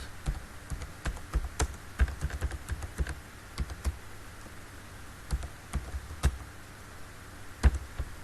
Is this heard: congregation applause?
no